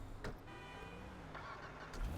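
A car races through traffic in the video game GTA 5, its engine drone steady and close in a short burst with a faint horn-like tone, with no voices over it.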